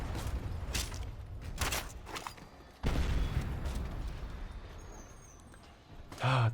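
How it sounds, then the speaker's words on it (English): Explosions and gunfire rattle through a World at War Zombies match on the Nacht Der Untoten map, with loud booming bursts rising and falling in uneven clusters and a heavy blast near the end. "The beautiful sounds of explosions."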